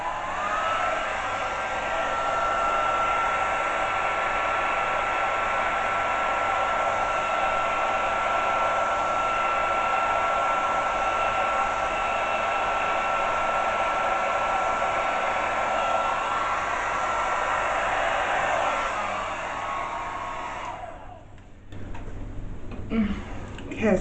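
A hair dryer blows steadily on acrylic paint during a Dutch pour fluid art session, a loud continuous whir for about twenty seconds before it cuts off, leaving quiet handling noises.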